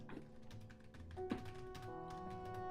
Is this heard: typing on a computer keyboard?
yes